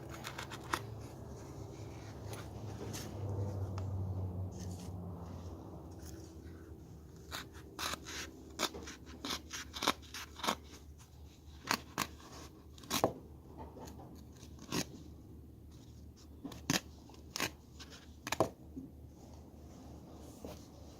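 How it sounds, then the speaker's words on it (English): A Benchmade 486 Gent's utility knife cutting through carpet, heard as a rough low tearing drag followed by a long run of sharp crisp snips and clicks, close and fairly quiet, with no talk. "Alright, let's cut the carpet."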